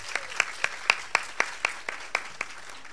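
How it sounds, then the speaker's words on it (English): An audience at a JA Kids conference claps for the young participants, producing a steady series of sharp, evenly spaced hand claps, fairly close and distinct, with no talking over them. "Just give them a round of applause."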